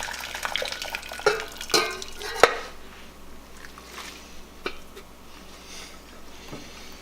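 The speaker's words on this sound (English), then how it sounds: "This is optional, but I choose to strain." Cooked noodles being strained in the kitchen after the pan comes off the stove, with a few sharp clatters of pot and utensil early on, then a faint wet trickle and quiet handling.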